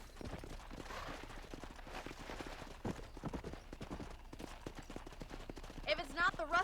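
Hooves clip-clop steadily as a horse is ridden in the Red Dead Redemption video game, a rhythmic trotting beat under a man's speech, with a horse whinny near the end.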